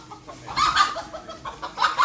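A chicken clucks close by in short, repeated bursts, a run of sharp cackling notes rising and falling with brief gaps between them.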